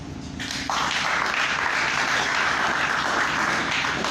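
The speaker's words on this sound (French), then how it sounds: "Applaudissons." A dense, steady wash of clapping from a large crowd that swells quickly and holds at full volume, with no voices standing out.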